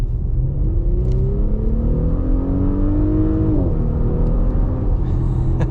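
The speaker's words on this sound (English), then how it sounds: "we'll punch it and see how fast we can get it to 60" A 2023 Audi SQ5 with 349 horsepower accelerating hard from 25 to 60 mph, heard from inside as a loud, steady engine roar rising in pitch, dipping briefly at a gear change, then climbing again.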